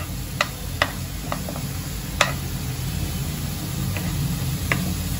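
Spices and ground masala paste dry-roasting in a pan, a faint steady sizzle with a few sharp ticks and clicks of a spoon scraping the pan, no voices.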